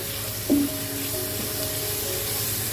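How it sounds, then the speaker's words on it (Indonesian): Bay leaves sauté in hot oil for mie ayam, with a sharp burst as they go in, then a continuous, even hiss of frying at close range. "Lanjut ini mae kasih daun salamnya. Kita tumis sampai harum"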